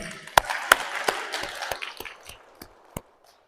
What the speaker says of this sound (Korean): 여성분들 박수 한번 쳐주세요.